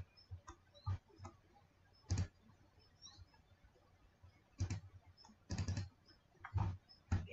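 Two quick pairs of computer mouse clicks, a double-click made while opening an image in Photoshop CS6, sharp and close, each pair standing out from soft scattered ticks and light keyboard tapping.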